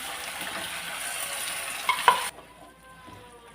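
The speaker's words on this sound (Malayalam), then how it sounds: "തൈര് ഒഴിച്ചു കൊടുക്കുകയാണ്" Curd poured into a pan of brinjal curry frying with browned ingredients, a steady sizzle with a couple of clinks before it drops away to quiet.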